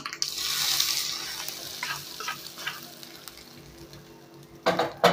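Mustard seeds, urad dal and curry leaves hit hot oil for kara chutney tempering, giving a bright, close hiss and crackle that peaks at once and then fades, followed by a few stirring clinks.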